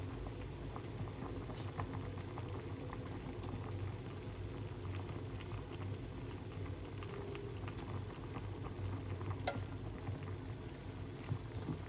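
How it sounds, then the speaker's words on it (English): Pineapple peel tea boils in a pot with rosemary, a dense, steady bubbling and popping that runs evenly and fairly close throughout, with no talking. "you make it boil up for a little bit"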